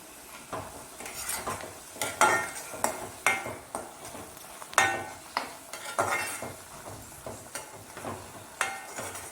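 Beetroot being stirred and heated in a pan for pachadi: a spoon scrapes and clacks against the pan in irregular strokes over a faint sizzle, close and fairly clear, with no voices.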